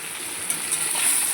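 Vegetables tipped into a hot oiled pan with turmeric and salt while cooking a sour dish of hilsa fish roe and raw tamarind, giving a steady close sizzle with faint splashing, no voices.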